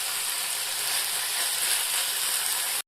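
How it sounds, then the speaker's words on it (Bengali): Onions frying and being stirred in a pan for chicken kebab, a loud, steady bright sizzle that holds evenly throughout and then cuts off abruptly at the end. "দিয়ে এগুলোকে নাড়াচাড়া করতে থাকবো যতক্ষণ পেঁয়াজটা গোলাপি রং না ধরে"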